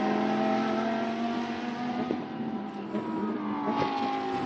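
Lamborghini Super Trofeo race cars at Portimao roar loudly and steadily with shifting engine pitch, a dense racing drone with tire noise and no talk over it.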